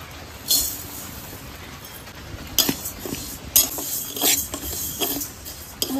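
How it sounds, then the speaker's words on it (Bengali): A metal spatula scrapes and clinks against a hot wok as mung dal is dry-fried for shrimp khichuri, with sparse bursts of stirring and rattling amid a quiet background. "আমি মুগ ডালটা ভেজে নেব।"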